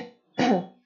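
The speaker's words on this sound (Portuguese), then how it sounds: "para livrar desse muco, começa a fazer o pigarro" A single short, rough throat clearing, close and fairly loud, following a faint breathy sound.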